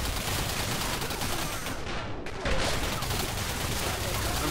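Dense, loud video game gunfire with sniper rifle shots roars continuously in a steady barrage, with a brief dip in the sound partway through.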